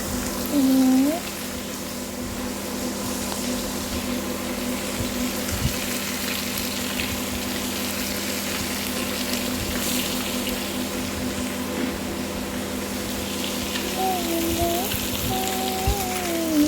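Fish frying in a pan with a dense, steady sizzle and crackle that runs the whole time, plus a few faint tonal sounds in the background.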